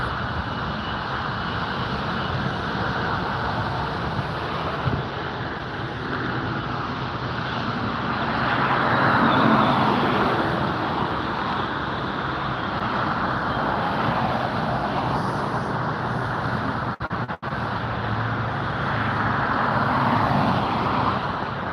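Austrian Airlines Boeing 777 taxiing and turning at LAX, a steady broad jet engine roar from a moderate distance that swells and fades slightly as the aircraft turns, heard alone without talk.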